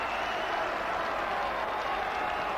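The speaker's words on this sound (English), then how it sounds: "Roars around Bootham Crescent" A football crowd roars at Bootham Crescent during a York City v Everton cup tie, a dense, sustained wall of cheering and applause that holds steady throughout.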